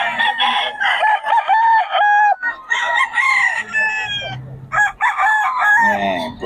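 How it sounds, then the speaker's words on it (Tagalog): Roosters and hens from Pangasinan, offered for sale, crow and cluck loudly and close by, several birds overlapping in repeated calls across the whole stretch. "Mga manok na ano, taga Pangasinan"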